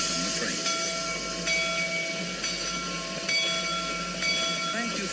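The Disneyland Railroad train rolls along with a steady mechanical rumble and hiss, faint rhythmic clicks recurring every second or so.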